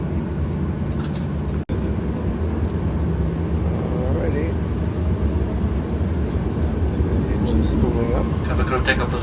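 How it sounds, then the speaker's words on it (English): Airliner engines spool up while the plane sits in takeoff position on the runway at Cape Town, a steady loud roar heard from inside the cabin, with people talking over it. "Spooling up. Have a good takeoff position."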